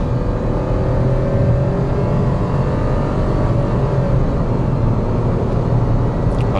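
Perodua Ativa engine revving hard in manual mode, the note climbing and shifting up through gears on a highway, a loud, steady drone close by with no talk over it.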